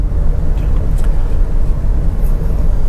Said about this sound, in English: And it still has bad traffic, and Highway 76 is a road that you really want to try to avoid.